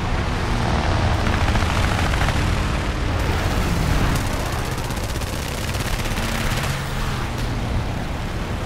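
A V-156-F aircraft fires its guns in War Thunder air arcade, a loud, continuous roar of gunfire mixed with engine drone and booms, with a few sharper bursts standing out.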